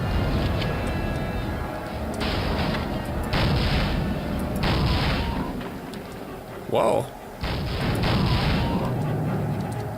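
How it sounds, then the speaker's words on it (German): Repeated heavy gunshots from a .44 pistol in the video game Soldier of Fortune, loud bursts coming in quick succession with short gaps between them, while someone speaks a brief exclamation over the shooting. "Da klang da ein Schuss."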